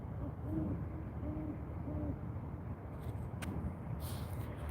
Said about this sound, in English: He's a good sized owl.